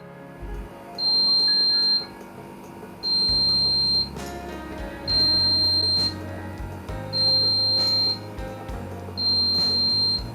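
A B Medical L130 medical freezer alarm sounds a high, steady beep for about a second, repeating five times at even intervals, loud and close, with a low hum underneath.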